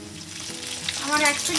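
Chicken pieces being lowered into hot white oil in a wok, a steady close sizzle that swells louder as more pieces go in.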